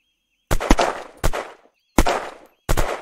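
Four loud, separate bursts of gunfire from a zombie survival video game, each a sharp crack with a decaying tail, spaced roughly evenly with silence between.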